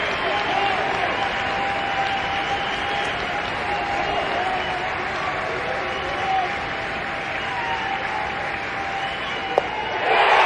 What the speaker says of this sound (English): This crowd sending out encouragement to Zach Hess.